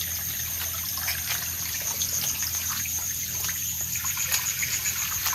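Rainwater runs through a garden and rice fields after heavy rain, a steady close trickling and gushing flow that holds evenly throughout with no voices.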